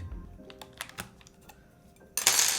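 A few sharp mechanical keyboard spacebar clicks, slightly glassy, tap out sparsely and close by, followed by a brief burst of hiss at the end.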